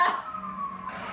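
A short ambulance siren wail sounds within the Resident Evil 5 video game, a steady tone rising briefly at the end, fairly clear and close.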